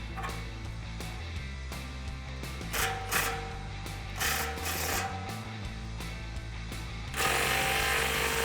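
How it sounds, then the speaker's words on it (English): A ratchet clicks steadily as the exhaust clamp on a 2018-2019 Mustang GT with a Borla ATAK cat-back system is tightened, a close, rhythmic mechanical clicking over a constant background hum. "from here we can tighten down that clamp"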